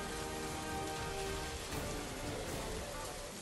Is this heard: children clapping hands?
no